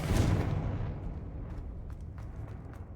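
A fiery explosion spell going off in the Hogwarts Legacy video game, a loud booming blast at the start that fades into a rumbling tail with faint crackles.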